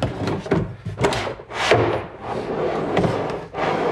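A wooden drawer on drawer slides is pushed into a plywood shop cabinet with a series of close, rumbling slides and knocking thuds, steady handling noise throughout with no talk.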